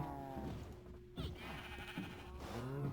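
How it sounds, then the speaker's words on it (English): Sheep in the Minecraft video game bleat repeatedly at close range, several wavering calls overlapping across a steady background hum. "there's colored sheep everywhere now, just because they find a small hole to escape through"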